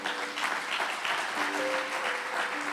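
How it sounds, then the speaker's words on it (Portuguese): A church congregation applauds together, a dense, continuous wash of clapping with a few sustained musical tones sounding faintly beneath it. "Aplauda ao Senhor."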